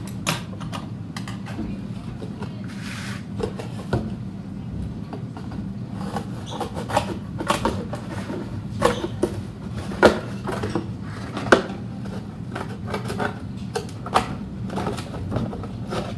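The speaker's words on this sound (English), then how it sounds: "I am trying to cut with these little pair of scissors, and the box is not that hard" Small scissors cutting through a cardboard box in half to make a tray, giving irregular crunchy snips and clicks over a steady low background hum, with no talking.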